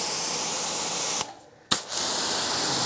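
Pressurized water spray rinsing a black car, a steady broadband hiss that cuts out briefly twice before resuming, close and loud.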